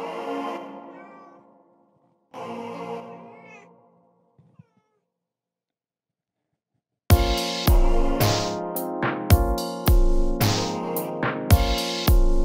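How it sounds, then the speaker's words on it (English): A cat screams in two drawn-out, wavering yowls with a pause between, followed by a burst of loud synthesized music. "My cat is screaming"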